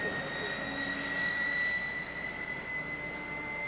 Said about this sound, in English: As pilots prepare to take off